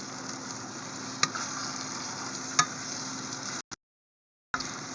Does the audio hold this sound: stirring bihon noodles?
yes